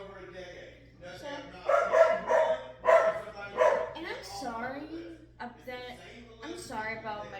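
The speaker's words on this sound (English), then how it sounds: "I'm sorry about my dogs." Several dogs in a home bark and yip in repeated bursts, moderately close and loud, over and between a person talking, with some whimpering toward the end.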